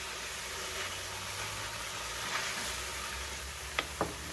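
Pork frying in a pot of coconut cream and curry paste, a steady low sizzle with a couple of brief clinks of a utensil near the end.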